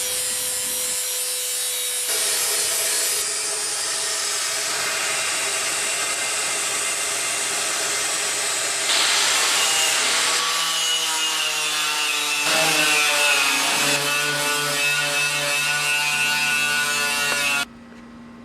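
A grinder strips paint and rust from the hood of an Allis Chalmers 310 tractor, a loud, steady abrasive whine that runs continuously for about eighteen seconds, with shifts in pitch as the disc presses and moves across the metal.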